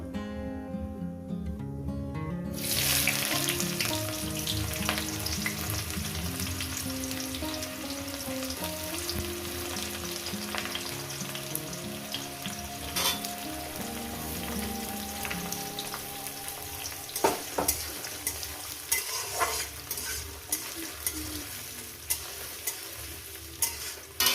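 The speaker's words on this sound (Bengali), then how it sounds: "গোটা গরম মশলা কয়েক সেকেন্ড ভেজে নেব দিয়ে দেবো এখানে পেঁয়াজ কুচো" Chopped onions and whole garam masala with a halved bay leaf frying and being stirred in a pan while cooking Kajol Gouri fish, a steady loud sizzle with scraping stirs throughout, no talk.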